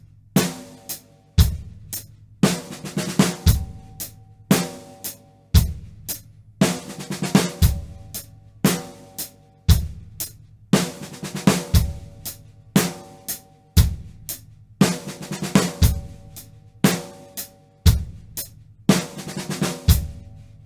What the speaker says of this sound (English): on beat 4, I'm just going to play a 6-stroke roll on the snare